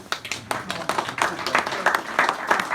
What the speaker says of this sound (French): on peut applaudir là, sur le coup d'Aznavour.